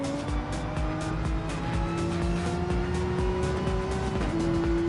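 Porsche GT3 race car in a sim racing game at Laguna Seca, its engine droning loud and steady with rising and shifting pitch, tyre squeal and skid noise mixed in, heard from on board with no talk.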